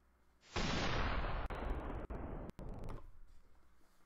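Airstrike explosion sound effect, a sudden loud boom that roars for about two and a half seconds with a few sharp cracks inside it, then drops away to a quiet tail, heard alone without talk.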